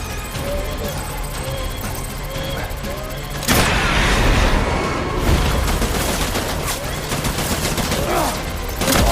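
Heavy gunfire erupts in Death Stranding, a dense barrage of rapid shots and booms that suddenly swells to a loud, sustained fusillade after a quieter stretch of scattered fire.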